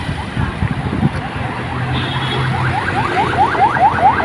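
On a street in Malanday, Valenzuela, an ambulance siren passes with repeated rising wails that grow louder and more frequent over a few seconds, mixed with traffic noise and footsteps.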